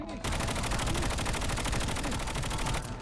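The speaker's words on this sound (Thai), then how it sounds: "เสียงนี้น้องบอดยิงกันครับ" Bots trade rapid automatic gunfire in Call of Duty Mobile. One fast, evenly spaced burst runs for about three seconds at steady volume.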